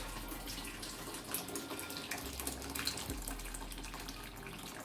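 Water runs into a cooking pot for a vegan stew, a continuous close pour with light splashing and gurgling from start to finish, with no talking.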